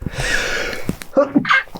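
A single sneeze bursts out during a casual podcast conversation, a sharp breathy intake followed by a quick explosive release, close to the microphone.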